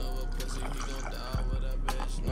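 Trust Me vodka pours into a glass with a steady liquid trickle and a few small glugs, close and fairly quiet over a low background hum.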